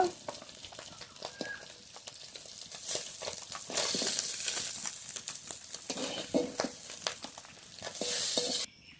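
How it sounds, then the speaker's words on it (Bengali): Fish fry in a pan with a crackling sizzle, broken by frequent scraping and clattering as a utensil stirs and turns the pieces, rising louder partway through. "এই মাছগুলো খুব ভালো করে ভাজা হয়ে গেছে"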